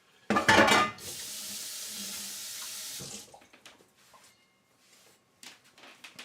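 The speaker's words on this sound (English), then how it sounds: "including my knife, which I now have to wash" A kitchen tap runs as a pork-smeared knife is rinsed while making Dan Dan noodles; a sharp splash opens a steady two-second gush of water, followed by quiet clinks and handling sounds.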